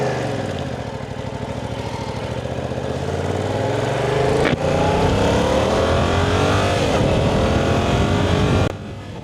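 A Yamaha R7 sport motorcycle engine revs up close and loud, pitch climbing steadily as it accelerates through the gears, with a brief shift partway through.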